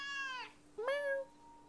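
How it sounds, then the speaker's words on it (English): A house cat gives two clear, close meows, the first long and drawn out, the second shorter and rising after a brief pause, in an otherwise quiet room. "Oh, it must be Nora's cat."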